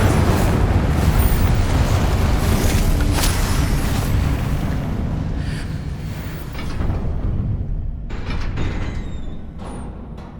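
An Incendio fire spell bursts in Hogwarts Legacy gameplay, a loud roaring blast of dense noise that holds steady for several seconds and then slowly thins out.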